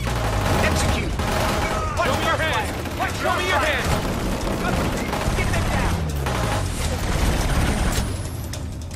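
Dense sustained gunfire from the video game Killzone Shadow Fall, continuous rattling bursts and booms layered with game effects and voices throughout.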